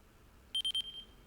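A Radiomaster TX16 radio transmitter gives three quick, evenly spaced warning beeps, then a longer single tone that fades out, all clear against a quiet background.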